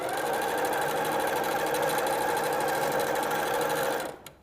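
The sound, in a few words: sewing machine stitching quilt binding strips diagonally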